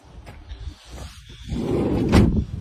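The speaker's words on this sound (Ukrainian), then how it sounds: "Двері тут відкриваються." Doors on a used car being opened and shut: a short knock early on, then a louder, broad rush with a firm thud near the end, heard close with no talking.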